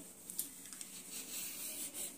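Skin being peeled off a radish, soft close scraping strokes in short uneven passes, quiet and unaccompanied.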